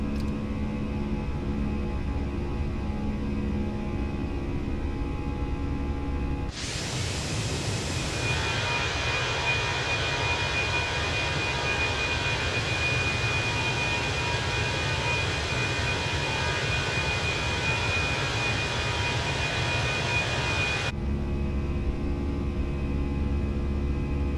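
Airbus A320 jet engines in a flight simulator spool up from a low cabin drone to climb thrust, a sustained loud roar with a steady whine that holds evenly for about fifteen seconds before dropping back.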